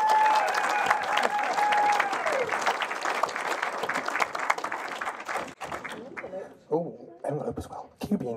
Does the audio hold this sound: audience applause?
yes